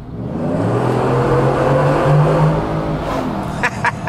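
A Ford F150 truck exhaust revs up in one long, loud, close rising and falling drone that eases off near the end, followed by a few short clicks.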